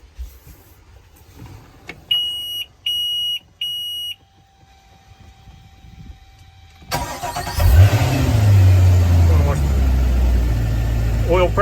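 Three loud beeps sound in a row, then a Volvo Penta Gen 5 marine engine cranks and catches, settling into a steady, loud rumble that continues to the end.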